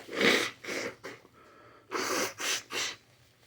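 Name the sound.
nose blowing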